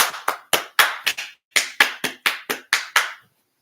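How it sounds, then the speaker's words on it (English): Close, sharp hand claps from one or two people in a podcast discussion, about a dozen crisp strikes in an uneven rhythm with a short pause partway through, alone in a quiet room. "We gotta clap it up."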